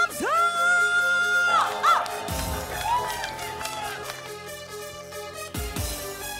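A Korean singing-contest audience cheers and shouts with children's whoops and scattered clapping, loud and close over a host's voice and a sweeping music sting.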